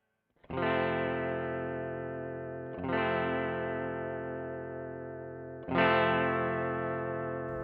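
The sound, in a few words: Telecaster electric guitar through Strymon Timeline delay pedal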